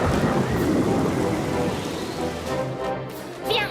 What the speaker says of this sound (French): C'est juste un peu de pluie.